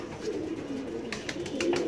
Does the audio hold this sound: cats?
no